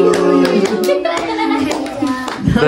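After a birthday song at a home party, a few people clap their hands in loud, close, uneven bursts while voices, including a child's, talk and call out over it.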